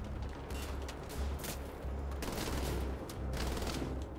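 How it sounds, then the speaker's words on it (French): Enemy gunfire in Wolfenstein: The Old Blood, a dense rattle of shots in quick bursts under low rumbling, fairly muffled and moderately distant. "Il y a un mec qui me tire."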